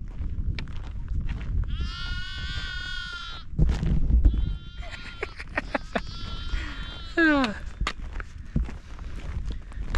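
Sheep bleat repeatedly along a hiking trail in Scotland, with several wavering calls at close to moderate range over footsteps and outdoor ambience.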